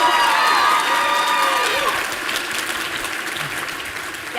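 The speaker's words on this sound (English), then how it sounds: "let's give them a round of applause" An audience applauding at the D.I.C.E. Awards, a dense wash of clapping with some cheering and voices that is loud at first, then fades into sustained lighter clapping.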